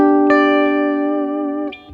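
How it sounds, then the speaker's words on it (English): Sustained electric guitar note run through an analog echo delay on a Fractal VP4 virtual pedalboard, ringing steadily with rich harmonics for nearly two seconds before a brief higher note near the end, loud and alone. "So with just an analog echo."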